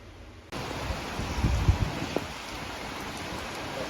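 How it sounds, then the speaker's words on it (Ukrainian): A sudden wash of heavy rain begins and keeps pouring steadily, dense and loud, with a few low rumbles of thunder mixed in. "У нас сьогодні така злива"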